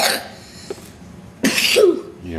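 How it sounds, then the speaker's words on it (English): A young child coughs a couple of times, close and fairly loud, between bits of conversation. "You had a bad cough, huh?"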